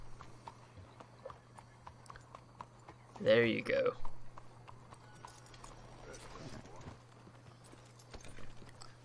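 Horse hooves clip-clop in the Red Dead Redemption 2 video game, a short burst of steps near the middle against a steady low hum, with a voice speaking briefly over them.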